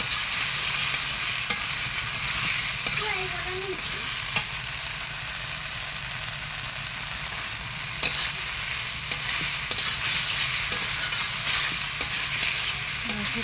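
Masala sizzles and fries in hot oil in a home Bengali kitchen, with a steady crackling hiss and occasional scraping stirs, close and continuous with no talk.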